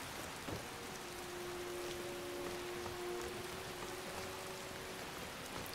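Continuous rainfall in the game Skyrim around the town of Falkreath, a constant soft patter and hiss with a faint sustained hum underneath, no voices present.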